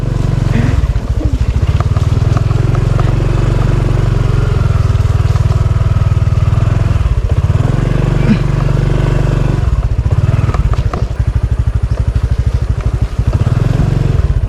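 A motorcycle engine labours along a rough, difficult road, a loud, close, continuous drone with uneven surges and bumps throughout; someone talks briefly over it.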